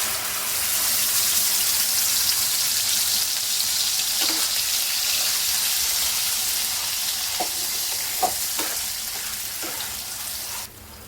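Ground masala paste sizzles steadily in a hot pan for paneer masala, a broad continuous fry with a few soft clicks of stirring and a sudden drop in sizzle at the very end; no one speaks.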